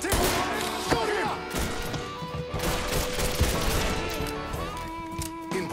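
Video game gunfire crackles through a dense, chaotic mix, with sharp thuds and bursts layered over a constant loud din of combat noise and speech.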